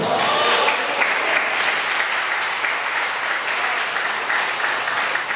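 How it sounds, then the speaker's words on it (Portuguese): A church congregation applauds during a sermon, a dense, loud, sustained burst of clapping from many people that fills the whole stretch. "Dê uma salva de palmas aí."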